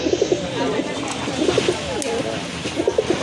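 Domestic pigeons, a female among a breeding pair kept for sale, coo in repeated soft rolling bursts close by, three clear phrases spread across the stretch over a steady background hum.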